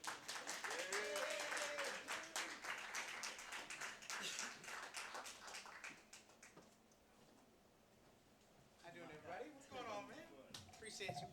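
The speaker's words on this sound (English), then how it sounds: "Clap it up, show some love." Audience clapping at a live talk-show taping, dense and loud for about six seconds, then fading out, with voices and cheering rising near the end.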